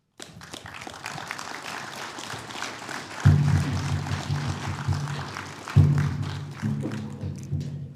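An audience applauds Chief Tavita at a tri-nation MOU signing ceremony for Muscowpetung, Piapot and Pasqua: a steady crowd clapping that swells and carries on through two deep low thumps near the end.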